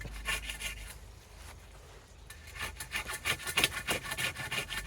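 A farrier's rasp works a wooden walking stick in a steady run of rough, scratchy strokes, close and fairly loud, slowing briefly partway before resuming a quicker back-and-forth rhythm.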